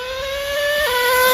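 Traxxas Jato 3.3 nitro RC car: a high-pitched, steady engine whine, loud and close, holding one pitch before dropping suddenly for a moment and then rising again, with no voices.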